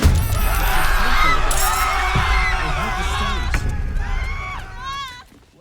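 Crowd reactions in the video game Baldur's Gate 3: a busy murmur of many voices with gasps and rising exclamations, thumping movement and a heartbeat-like pulse, fading toward the end.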